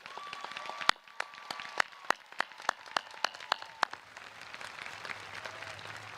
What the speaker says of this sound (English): Please join me in a round of applause as we show our appreciation for the North High staff.